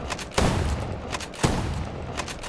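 Two heavy shotgun blasts from the game OutlawZ boom out about a second apart, each a loud sharp crack with a deep rumbling tail, over continuous background battle noise.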